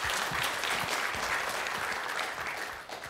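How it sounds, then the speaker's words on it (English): Conference audience at the APRICOT 2020 networking event applauds after a presentation, a steady dense burst of clapping that thins slightly near the end. "So, thank you for presentation. Let's applause."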